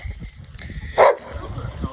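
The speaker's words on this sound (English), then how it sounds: "So that was a dog that you might have heard" A neighbor's dog lets out one short, sharp bark at mid-distance in a residential neighborhood, set against ongoing outdoor background noise and a person speaking nearby.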